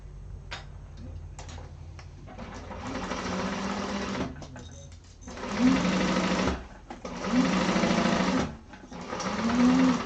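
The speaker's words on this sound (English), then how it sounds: "Stopping at the box and back stitching." Sewing machine stitching a satchel lining in repeated bursts, stopping and back stitching, with a steady rhythmic mechanical whir and ticking between short pauses, fairly close.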